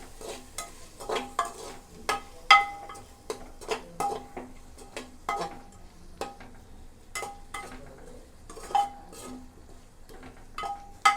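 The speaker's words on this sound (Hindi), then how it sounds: "और सारी चीज़ों को अच्छे से मिक्स कर लेंगे।" A spoon stirs coriander powder, roasted cumin powder and garam masala into an aloo masala pulao mix in a pressure cooker, giving irregular scraping clinks and soft sizzling taps up close, with no talk.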